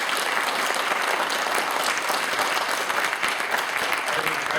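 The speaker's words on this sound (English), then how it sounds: "Give her a round of applause." An audience applauds steadily for several seconds, a dense, continuous wash of clapping from a crowd at a business talk.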